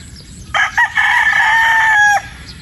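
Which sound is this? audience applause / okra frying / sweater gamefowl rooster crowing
sweater gamefowl rooster crowing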